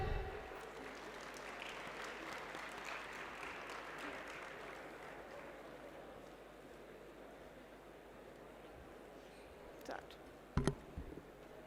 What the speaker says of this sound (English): give a big round of applause, ladies and gentlemen.